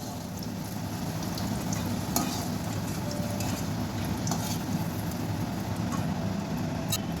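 Green banana and potato pieces fry with salt in a pan with a steady sizzle and scattered crackles and pops, close and continuous, with no talking.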